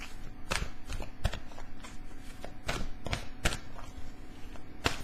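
Tarot cards being shuffled by hand in a series of crisp riffling bursts and soft slides, close and fairly quiet, with irregular sharp flicks over a steady low room hum and no talking.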